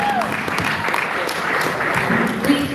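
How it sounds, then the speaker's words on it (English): An audience applauds at the opening ceremony of a Nigerian medical students' association meeting, a steady close clapping that swells slightly toward the end, with a voice faintly heard beneath it. "Let's give a round of applause for her"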